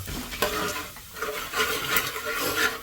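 Roasted gram being stirred as it fries in a pan for upma, with a soft, steady sizzle and scraping strokes against the metal, plus a few clinks.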